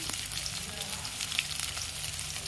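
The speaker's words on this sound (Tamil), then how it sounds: "நம்ம பீக்கங்காய் போட்டுக்கலாம்." Chopped ridge gourd and onions fry in a pan for a Tamil poriyal, a continuous close sizzle with faint crackles and the light scrape of stirring, no talk over it.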